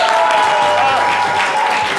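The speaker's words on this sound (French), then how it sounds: "on peut s'applaudir très très fort" Audience applause on a French-language talk show, a loud, steady wash of clapping from a studio crowd that fills the whole stretch without a break.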